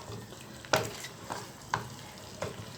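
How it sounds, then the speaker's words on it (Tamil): Mutton gravy being stirred in a pan while its liquid cooks down, heard as four separate scraping, sizzling strokes spaced roughly half a second apart over a low hiss, close and moderately loud with no talking. "இது நல்லா அந்த தண்ணி பூரா சுண்டுற வரைக்கும் நம்ம கிண்டி எடுக்கலாம்."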